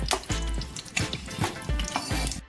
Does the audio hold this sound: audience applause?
no